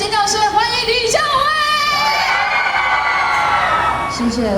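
A concert crowd screams and cheers loudly for a female pop singer at a live show, with continuous high-pitched shrieks and whoops sustained throughout.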